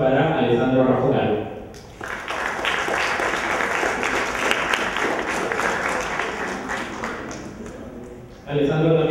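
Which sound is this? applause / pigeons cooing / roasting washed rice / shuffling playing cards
applause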